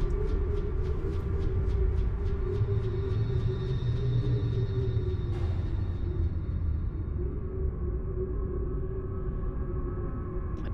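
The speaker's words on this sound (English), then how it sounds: "with that wind that's howling through" Howling wind ambience playing for a tabletop game scene, a steady, dense roar with low rumble and faint sustained tones running unbroken through the whole stretch, with no voices.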